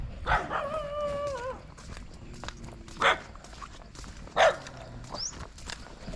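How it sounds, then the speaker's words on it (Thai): A dog barks a few times outdoors by the water in the evening, with short yelps and rising whines at moderate distance over a steady rustling background. No one speaks. "มาเห่าเขาแล้ว"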